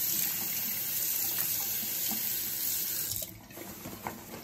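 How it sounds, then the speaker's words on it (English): Tap water runs steadily onto a waterproofed outerwear jacket treated with a wash-in repellent, a continuous close splashing hiss that thins and patters unevenly toward the end. "let's run some water on this to see whether it repels any better than it did before it was treated"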